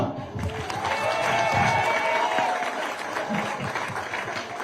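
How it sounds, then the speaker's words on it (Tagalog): A crowd at a political campaign rally for a PDP-Laban senatorial slate applauds, a dense, sustained wash of clapping and cheering from many people that swells then eases slightly. "Palakpakan nyo naman ang slate ng PDP laban senatorials."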